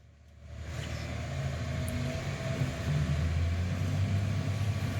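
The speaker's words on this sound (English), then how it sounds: "There's the Cat rock truck that she's running, rocking down to the music." A Cat rock truck drives along a rough haul road, its engine and rattling body forming a steady, loud rumble that builds after the first half second.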